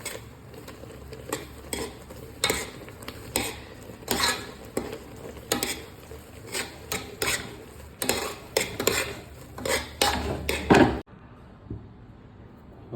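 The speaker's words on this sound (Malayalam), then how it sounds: "റവ ഇടാം ഇടുമ്പോൾ ഇളക്കണം കേട്ടോ" A spoon stirring semolina (rava) in a pan for upma, with repeated close scraping and clinking strokes in an uneven rhythm, a faint sizzle beneath, ending abruptly into near silence.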